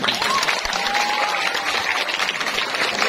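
Steady applause from an audience at a Balinese Calonarang performance at Pura Dalem Temesi, Gianyar, fills the whole stretch, a dense wash of clapping with faint voices mixed in.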